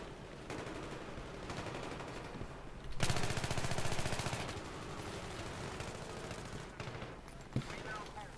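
Automatic weapon fire in Battlefield 3 on a close-quarter map, a Pro 90 gun, rattling in rapid bursts with a dense sustained stretch midway, over constant game background noise.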